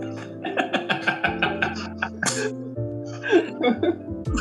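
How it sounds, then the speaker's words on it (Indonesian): A run of quick, rhythmic coughs from a man in an office, close and loud, followed by a brief burst of throat clearing and some mumbled speech. "Batuk dulu ya, oke."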